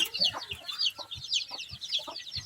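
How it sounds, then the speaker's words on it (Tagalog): Chickens and young chicks on a backyard farm clucking and chirping as they are fed, a steady chatter of high peeps over repeated low clucks, close by with no talk. "Yung mga sisiyo ha. Yung dami nila."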